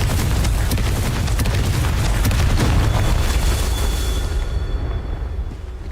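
Confringo blasting spell in Hogwarts Legacy, a loud sustained rumbling explosion with crackling bursts that fades out over the last second or so.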